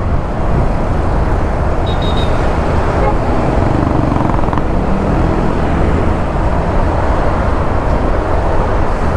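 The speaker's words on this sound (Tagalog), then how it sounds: "Tuloy-tuloy lang yung daloy ng sasakyan dyan." Dense road traffic flows past on an expressway near a service road between Pasig Rosario and Lipa, Batangas, producing a loud, unbroken roar of passing vehicles close by.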